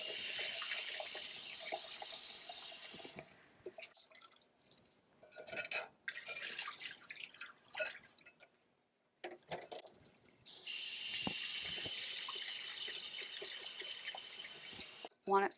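Cold tap water gushes into a sink as dyed hand Spanx are rinsed, the flow stopping and restarting with drips and wet handling sounds in the gaps, and a voice talking.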